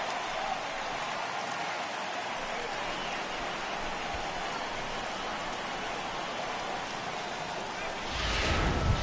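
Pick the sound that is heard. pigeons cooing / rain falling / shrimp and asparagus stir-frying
rain falling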